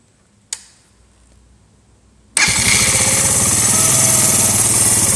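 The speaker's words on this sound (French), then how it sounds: "Donc là je vais allumer le moteur." A sharp click, a short quiet pause, then a Mash 75 engine catches and settles into a loud, steady idle that runs to the end.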